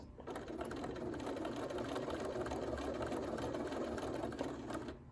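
A sewing machine stitching fabric circles runs continuously for about five seconds with a close, steady buzzing whir and fine rapid needle clatter, then stops sharply; no voices.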